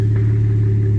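A Dodge Challenger's engine idles in a low, steady hum while the car backs up, loud and close with a constant drone and no other sounds.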